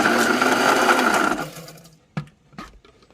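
A blender grinds mugwort for rice cake in a steady, loud whir that runs for about a second and a half, then cuts off, leaving a few short knocks and clatters close by.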